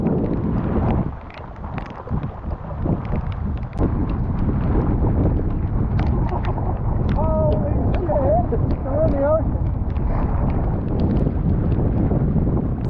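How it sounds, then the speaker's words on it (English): Heavy wind buffets the microphone over a rumbling boat engine on a sea crossing to the Nova Scotia mainland, with pouring rain and a few faint voices in the background. "We're making the crossing back to the mainland, and it started pouring rain."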